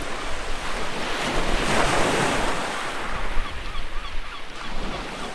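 Sea waves roll in as a loud, broad wash of surf that swells and recedes, with wind buffeting the microphone throughout and no voices.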